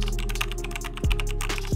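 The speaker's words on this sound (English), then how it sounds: "For my prompt, I'm going to type in this." Quick, steady keystrokes on a computer keyboard as a prompt is typed, close up, over a low constant hum.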